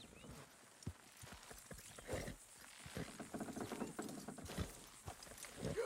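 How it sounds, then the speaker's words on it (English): Horses in the video game Red Dead Redemption 2 strain to pull a structure down, hooves clip-clopping in an uneven rhythm alongside creaking, ratcheting mechanical sounds, all fairly quiet and distant. "Horses will pull it clean down."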